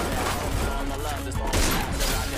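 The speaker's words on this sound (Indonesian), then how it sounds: "Wah, AK ya, itu AK headshot ya." AK rifle fire in a shooting video game, a dense, continuous burst of gunfire with constant loudness, mixed with game sound and a voice talking over it.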